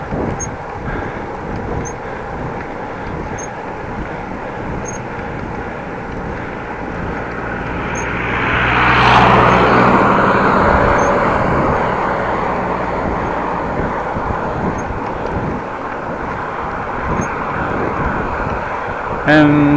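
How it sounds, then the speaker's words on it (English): A car comes up from behind on a rural road beside a cyclist, its rumble swelling to a peak about halfway through and then fading back into steady wind noise. "car behind me, that's nice."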